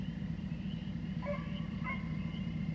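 Hounds running in a coyote pen give a few short, distant yips and barks over a steady low rumble of outdoor background noise.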